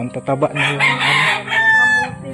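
Chickens cluck and a rooster crows loudly and close by on a farmyard, the crow rising over brief bits of talk in Tagalog.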